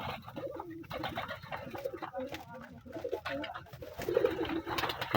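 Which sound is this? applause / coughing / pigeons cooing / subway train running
pigeons cooing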